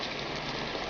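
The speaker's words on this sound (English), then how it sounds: "It's raining pretty hard." Heavy rain pours in a dense, steady hiss, close and loud, with no other sounds breaking through.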